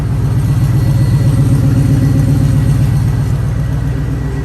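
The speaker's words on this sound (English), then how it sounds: "Listen to the exhaust." 1969 Chevrolet Camaro RS/LS idling through its exhaust, a steady, deep, throbbing burble heard up close and loud, with no talking.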